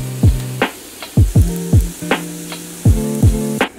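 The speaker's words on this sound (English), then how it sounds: "So first I'm frying up like a third of this can of garbanzo beans, and it's just in a pan with some olive oil and hot sauce." Canned garbanzo beans frying in a pan with olive oil and hot sauce, sizzling in short sharp bursts as they are stirred, a spatula scraping and tapping the pan several times in uneven rhythm, close up with no talk.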